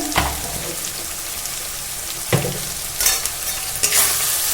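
Salt being stirred into onions frying in a pan for chicken curry: a steady sizzle with a few distinct scraping stir strokes, close and fairly loud, with no voices.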